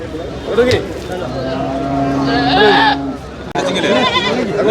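Goats and sheep bleat close by at a livestock market, wavering cries repeating among livestock noise, with people talking and a steady engine-like hum underneath.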